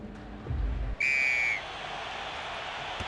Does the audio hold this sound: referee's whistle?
yes